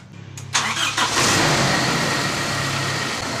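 A car engine cranks and catches during a brake booster hydrovac check, then settles into a loud, steady idle after a brief rev.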